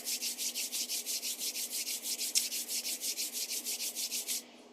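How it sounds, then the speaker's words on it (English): Two hands rub briskly together to warm up, a steady rhythmic swishing of about two strokes per second, close and clear, stopping abruptly at the end. "Rubbing our hands together until they get nice and warm."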